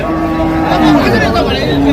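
Cattle low at the busy Raniganj cattle market in Dinajpur, a drawn-out moo rising over crowd chatter and people talking nearby.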